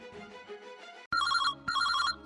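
A soft melodic tone gives way to two loud electronic telephone rings on an outgoing call, each burst cut off by a brief pause, with no voices.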